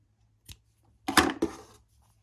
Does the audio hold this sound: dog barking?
no